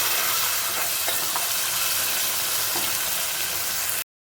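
Spice paste being stirred and fried with tomatoes and peas in a pan for Bengali ghugni gives a dense, steady sizzle and hiss with faint scraping, holding level before cutting off abruptly.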